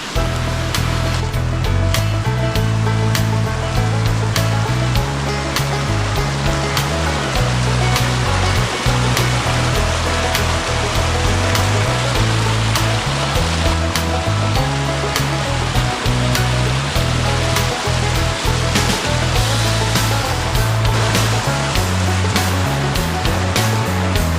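A creek at Cobbs Landing near Terrace, British Columbia rushes loudly and steadily, a thick, close roar of flowing water that never lets up, with no one talking.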